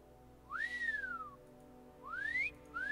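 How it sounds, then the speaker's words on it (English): Whistle for calling a horse in the Skyrim video game, two rising-and-falling whistled notes with a third starting, fairly faint over a low background hum, no talking. "You mean I finally able to whistle for my horse?"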